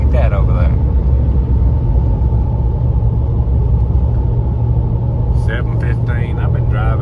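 A pickup truck drives along a road with a loud, steady low engine rumble and road noise heard from inside the cab, and a person talks briefly at the start and near the end.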